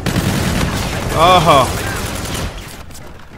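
Bursts of rapid gunfire in the first-person shooter game Call of Duty: Infinite Warfare, a loud fusillade for about two seconds that then fades, with a brief spoken exclamation.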